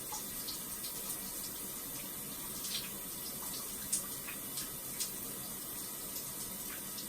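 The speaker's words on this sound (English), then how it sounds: "I rinse the container." Tap water runs steadily at a sink while a container is rinsed, a faint continuous rush with a few small knocks and splashes.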